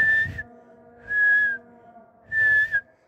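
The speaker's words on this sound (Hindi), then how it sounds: "मैं सीटी बाज देती हूँ" A person whistles three sustained, shrill notes in a row, each about half a second long and separated by short pauses, loud and close with no other sounds.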